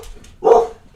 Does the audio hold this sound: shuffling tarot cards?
no